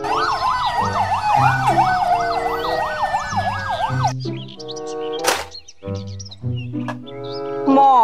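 A toy police car siren wails up and down steadily for about four seconds, loud and close, then gives way to bright electronic chirps and beeping tones from the toy.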